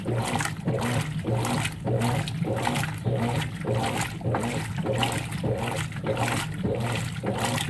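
A Consul 16 kg top-load washing machine agitates a load of dish towels at water level 1, giving a steady, rhythmic swish and slosh of water roughly every half second, with no talking.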